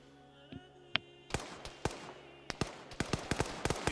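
Sharp bursts of gunfire in Arma 3 PvP combat crack out in quick succession, some single shots and some clustered, loud and close with a few fainter pops early on.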